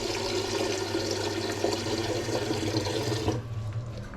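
Water running from a kitchen tap into a pot for lentil soup, a steady loud gushing stream that cuts off near the end, leaving a quieter trickle.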